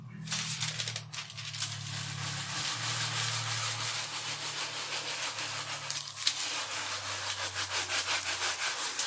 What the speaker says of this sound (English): So the aim is to give it a sort of thorough burnishing on the back, but just firm.